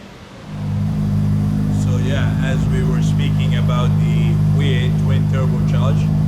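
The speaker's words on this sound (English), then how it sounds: "And as you can hear the sound of the car." Ferrari F8 Tributo V8 running in a supercar showroom, a steady loud engine drone rising in the first second and holding, with people talking over it throughout.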